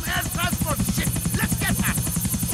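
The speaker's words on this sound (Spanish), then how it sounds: "Aterrizó un helicóptero en el cruce de estrellas" A helicopter in GTA IV: The Ballad of Gay Tony gives off a loud, continuous rotor chop with a fast pulsing beat. Someone speaks over it in bursts.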